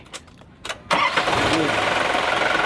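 A six-wheel dump truck's diesel engine cranks with a few short starter bursts, then catches and settles into a loud, steady running rumble, close by and without speech.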